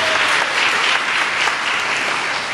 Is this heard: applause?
yes